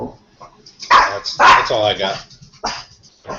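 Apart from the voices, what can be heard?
dog barking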